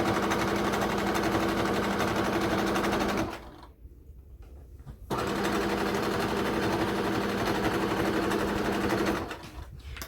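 A sewing machine stitches a fleece neck warmer scarf with a steady, loud mechanical whir, pausing briefly midway before resuming, then stopping near the end.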